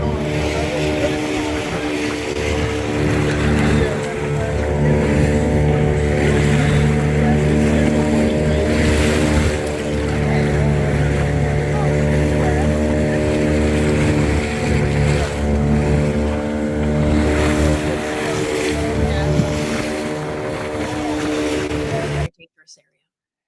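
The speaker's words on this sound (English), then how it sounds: "So this is kind of part of our boat ride to the island." Motorboat on a ride out to an island, its engine droning steadily and loudly throughout with water rush, before cutting off abruptly near the end.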